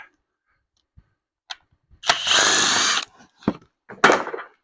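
A power tool loosens 10 mm bolts on the 1.6-liter engine of a 2015 Ford Escape, giving one whirring burst of about a second and a shorter one later, set among scattered clicks and metal clinks.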